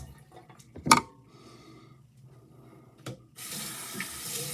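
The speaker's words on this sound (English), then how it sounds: "Let me rinse." A tap running into a sink for rinsing after a straight razor shave, a brief splash and clatter early, then a steady hissing stream that starts partway through and continues to the end.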